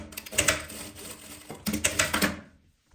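A sewing machine stitches a closing seam on fabric scraps in two quick rapid-fire runs separated by a brief pause, close and fairly clear, then falls silent.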